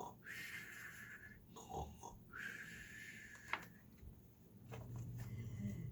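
A person imitates a bear snoring at a story reading, making a few drawn-out, nasal snoring and snorting sounds with short pauses between them, close and fairly quiet.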